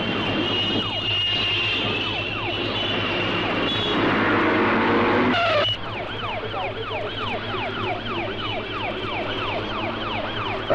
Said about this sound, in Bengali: অ্যাম্বুলেন্সের সাইরেন শুনতে পাননি?